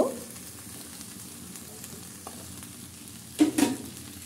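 Cut eggplant pieces go into a frying pan of spiced potatoes, which hisses with a steady sizzle and then gives a louder clatter and burst of frying near the end.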